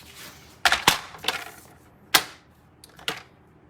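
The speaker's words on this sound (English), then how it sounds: "I'm just going to cut real quick." Several crisp, sharp snaps from a paper trimmer cutting a strip of card stock for a handmade card, five or six quick clacks spread irregularly over a few seconds, close and alone.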